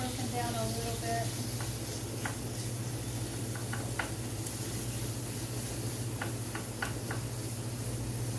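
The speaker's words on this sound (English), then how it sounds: "I wanted to start rendering the grease out of the chorizo" Chorizo sizzles in a pan as its grease renders out, a steady soft crackle under a low hum, dotted with small sharp pops and ticks.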